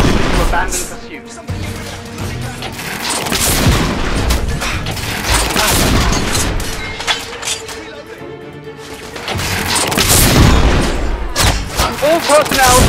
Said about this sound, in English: We are witnessing heavy artillery fire at the moment.